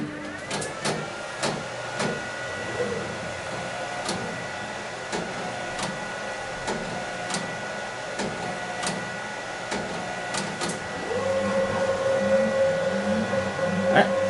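A Ricoh DTG direct-to-garment printer runs a nozzle check: rhythmic mechanical clicks and carriage shuttling over a steady hum, then a louder whirring motor tone near the end, with someone speaking intermittently over it.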